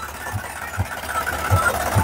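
A second-hand tractor's old engine idles at close range, a steady low rumble with periodic deeper thumps and a faint rattle.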